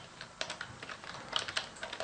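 Quick, light clicking of computer keyboard keys, close by and fairly quiet, in an uneven flurry of keystrokes with no talking.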